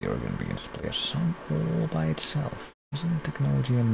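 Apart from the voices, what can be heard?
No everyday noise stands out behind the speech.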